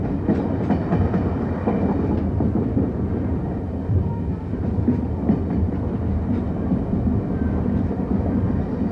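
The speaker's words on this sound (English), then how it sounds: "3801 was steaming into history in grand style" Steam locomotive 3801 rolls through the Perth suburbs toward the terminal, a steady, loud, close rumble of wheels and carriages with rhythmic clickety-clack running unbroken throughout.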